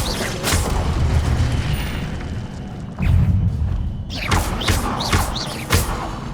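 Booming fire-spell blasts of Incendio from the Hogwarts Legacy video game, with several loud thumping bursts in sequence and no talking over them.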